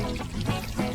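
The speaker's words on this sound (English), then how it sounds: "Peppa carefully waters the flowers." Cartoon water pours from a watering can onto garden flowers, a brief continuous splashing trickle heard alone.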